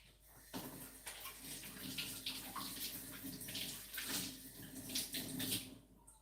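Cold water running from a kitchen tap into a container, a steady rushing and splashing stream that carries on throughout, fairly close.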